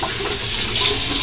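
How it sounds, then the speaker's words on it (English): Warm then cold tap water runs steadily from a bathroom faucet into a sink during a face rinse after a straight razor shave, a close, continuous splashing flow that swells slightly near the end. "A final rinse with warm water and then cold water."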